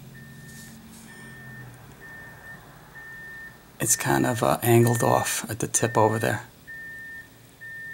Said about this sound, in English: what you're hearing now is the sanitation picking up garbage